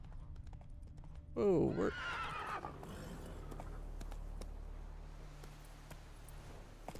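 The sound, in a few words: horse Roach galloping, The Witcher 3 video game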